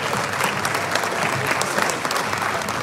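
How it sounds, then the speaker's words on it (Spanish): Audience applause in the José Rosas Moreno theatre, dense continuous clapping from a large crowd, loud and even throughout with no voices standing out. "Animamos con un fuerte aplauso a Montse Gaitán"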